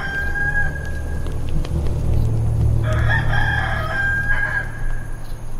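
A rooster crows loudly and clearly in a dramatized audio Bible scene, a long drawn-out cock-a-doodle-doo with clucking fowl around it, heard on its own without speech.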